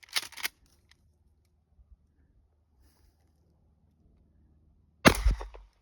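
A Mossberg 500 12 gauge shotgun fired outdoors near sunflowers: a brief sharp sound at the start, then near silence, then a single loud, close blast near the end with a short decaying tail.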